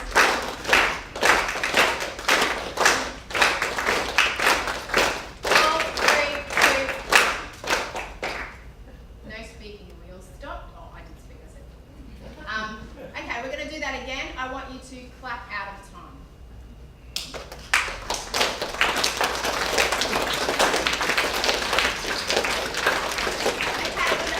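An audience at a wellness talk claps hands in a fast, steady rhythm, loud and close, then stops while a person speaks, then the rhythmic clapping resumes and continues to the end.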